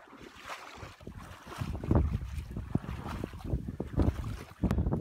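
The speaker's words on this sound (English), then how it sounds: "Sorry about the wind." Gusting wind buffeting a phone microphone outdoors by a river on public land in Montana during a duck hunt, a loud rumbling roar that swells and dips with no speech.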